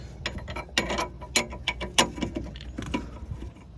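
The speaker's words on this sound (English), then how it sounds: "Reinstall your bottom bolt and nut." Ratchet clicking as a bolt and nut are tightened on the lower strut mount of a 2008 Honda Accord, a close series of irregular metallic clicks and short bursts with no talk.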